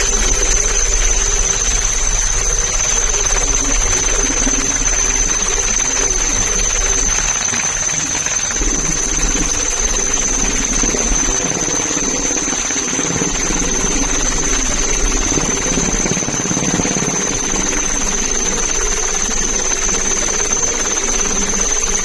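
A coast guard helicopter flies during a sea search for missing fishermen, its steady rotor and engine roar loud and continuous throughout, with a constant high whine riding above it.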